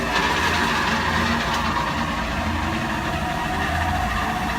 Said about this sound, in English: And then I'll start the blower.